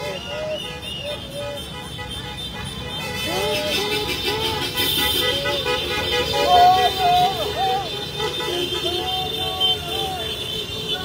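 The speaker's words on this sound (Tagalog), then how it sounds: "Yung mga bubusina po, yan yun, no?" Cars honk their horns along a road during a street protest against corruption in the Philippines, short toots and longer blasts overlapping with traffic noise while people talk nearby.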